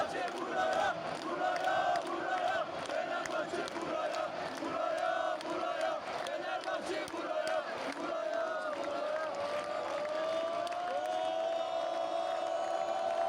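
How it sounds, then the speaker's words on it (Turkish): Football fans in a stadium during a Fenerbahçe versus Kayserispor match chant in unison to call the Fenerbahçe players over, a loud sustained crowd roar with rising sung tones and voices mixed in. "Burada Fenerbahçeli oyuncuları çağırıyoruz."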